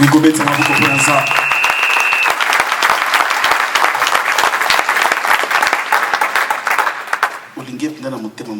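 A wedding audience bursts into sustained, dense applause with voices mixed in, clapping loudly and steadily before thinning out and fading near the end.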